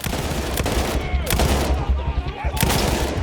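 Rapid automatic gunfire from a weapon in the video game Battlefield 1, with loud sustained bursts and sharp cracks running through the whole stretch over dense battle noise, with faint speech now and then.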